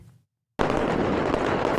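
Firecrackers on New Year's Eve burst into a dense, loud crackling barrage that starts abruptly after a brief quiet moment and continues without pause.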